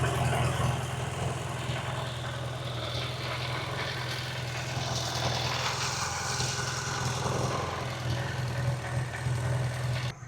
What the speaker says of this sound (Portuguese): enquanto a moto esquenta